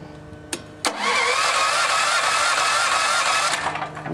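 A 13 horsepower GX390 China clone generator engine cranks with two quick pulls, then catches and runs at a loud, steady buzzing idle for about three seconds before starting to wind down.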